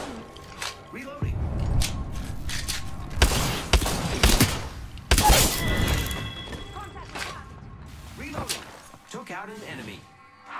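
Gunfire in the video game Apex Legends, with bursts of shots, thuds and impacts over a steady game background, and a voice talking over parts of it.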